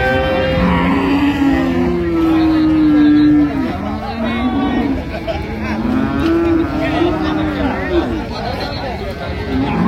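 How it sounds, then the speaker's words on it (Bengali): A cow and calf moo repeatedly at a rural cattle market in Dinajpur, loud, drawn-out lowing calls close by, with people chattering and talking underneath. "গাভী বাছুর আমরা দেখছি।"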